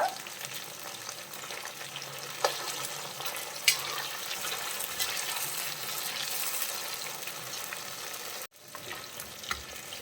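Beef pieces for pickle frying steadily in hot oil, a continuous close sizzle with occasional stirring clinks and a brief drop near the end.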